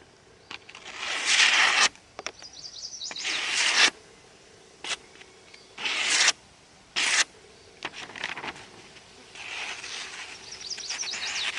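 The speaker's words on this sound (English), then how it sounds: "When you try to go back and forth and wiggle it like that when you're cutting a piece of paper" A Cold Steel Recon 1 knife with a CTS-XHP blade slices through a sheet of paper in several short, rasping bursts of about a second each, separated by near silence and faint background noise.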